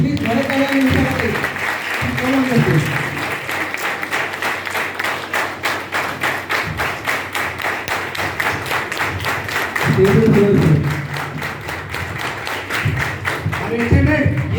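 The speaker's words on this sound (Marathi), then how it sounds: "सो त्यांच्यासाठी एकदा जोरदार टाळ्या होत्या प्लीज" Loud, dense clapping from an audience at a silver-anniversary producers' celebration, welcoming invited guests, sustained throughout with an MC's voice and music breaking in at intervals over the rhythmic claps.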